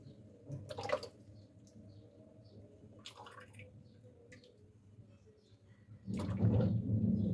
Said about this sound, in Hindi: अब हम इसको बोतल में डालते हैं।